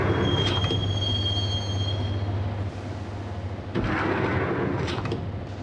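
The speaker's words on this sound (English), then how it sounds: "the train doors had already shut behind me, and I was in for the ride" A subway train ride toward Roscoe Street Station in the Max Payne video game, with a steady loud rumble of wheels on rails, a high wheel squeal and a couple of clanking jolts, with no talk.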